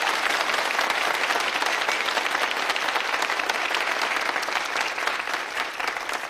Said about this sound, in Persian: یه دور دیگه تشویقتون بکنیم.